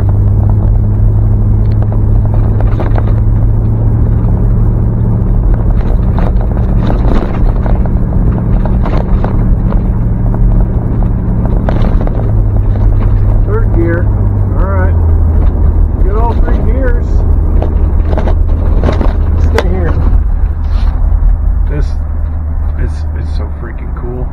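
A Pontiac Grandville's engine rumbles steadily as the car drives and shifts through its gears, with a low drone that steps down in pitch partway through. The sound is loud and close, with wind buffeting and someone talking over it.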